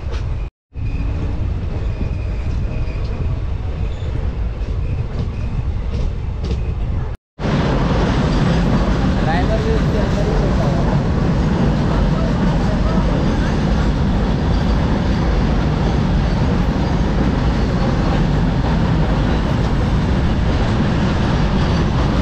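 Train 06602 Madgaon Special runs through green countryside in the morning, with a steady rumbling rattle of carriages close up and brief breaks, then louder continuous wheel and track noise, with voices at times.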